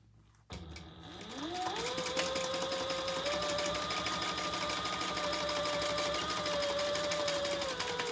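A sewing machine runs steadily, top stitching a bag seam down onto the bag's base, its motor whine rising quickly after a short pause and holding an even, close mechanical hum with no talk.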